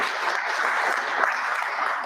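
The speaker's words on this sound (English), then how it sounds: "I would like to ask you for a round of applause again." Steady applause from a workshop audience after a hydrogen presentation, a dense even patter of clapping sustained throughout at moderate loudness.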